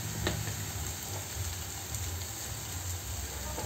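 Crab curry masala fries in a pan with a soft, steady sizzle and crackle, faint and continuous throughout with no talking.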